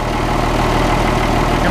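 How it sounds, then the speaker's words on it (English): An M35A2 military truck engine idles steadily and close, its low heavy drone carrying a faint regular thumping as the onboard air compressor kicks on. "the compressor just kicked on right there"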